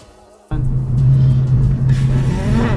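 A car engine, a five-cylinder, suddenly starts after a clutch replacement and settles into a loud, steady idle with a deep rumble.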